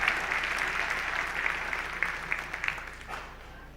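Audience applause for first-time scholar athletes at a winter sports awards ceremony, steady clapping that fades toward the end.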